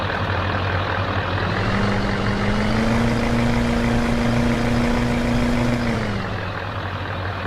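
A truck engine in Farming Simulator 2015 strains while pulling up a hill. Its steady, loud drone rises in pitch, holds, and then drops back near the end.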